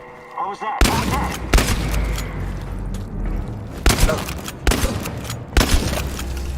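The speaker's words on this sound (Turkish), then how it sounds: "Pompalı güzel bir silah." A pump-action shotgun fires in the video game Chernobylite: sharp, heavy booms at spaced intervals, about five shots with short gaps between them, loud and close.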